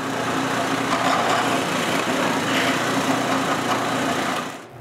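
A power drill bores a hole into a wooden false front for a drawer, giving a steady, fairly loud whirring grind for several seconds that stops abruptly at the end.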